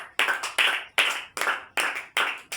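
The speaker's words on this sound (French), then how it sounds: "On acclame pour les seigneurs." A church congregation claps together in a steady rhythm, with about seven sharp, even beats at close range and no talk over them.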